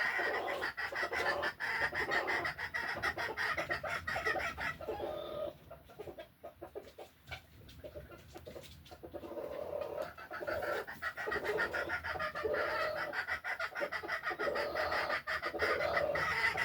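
A neighbour's rooster calls to a hen with repeated clucking bursts, fairly close and steady across the clip, with a quieter lull partway through and a constant background hum.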